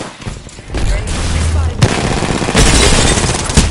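Video game gunfire in a shooter, rapid bursts of automatic shots cracking loudly and close, with heavier sustained firing after the midpoint and a voice briefly audible under the shots.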